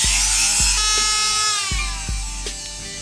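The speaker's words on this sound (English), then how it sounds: "Since we don't have a vise, we're just going to use the Dremel." A Dremel rotary tool cuts into a speed loader cap with a high steady whine, punctuated by several sharp clicks and knocks as the part shifts, close and loud.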